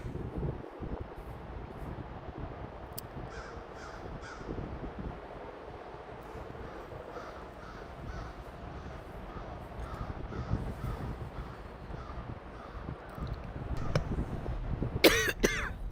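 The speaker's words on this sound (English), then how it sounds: "The bird sounds in the background." Crows cawing in repeated bursts over a windy outdoor background, with a sharper close call near the end.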